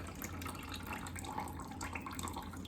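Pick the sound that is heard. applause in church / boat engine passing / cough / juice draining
juice draining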